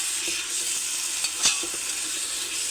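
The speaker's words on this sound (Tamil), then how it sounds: "இஞ்சி பூண்டு பேஸ்ட்டு நல்லா பரட்டிக்கணும்." Ginger garlic paste sizzles steadily in a hot pan, a soft continuous frying hiss with a few faint stirring scrapes, close and without talk.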